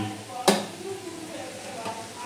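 A large pan of fried rice is stir-fried, with one sharp clatter of a spatula on metal followed by soft scraping and faint sizzling, plus a quieter second scrape.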